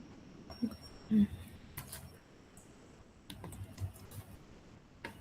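Someone types a git push command on a computer keyboard, a few scattered close key clicks with one louder tap, quiet and sparse over faint room noise.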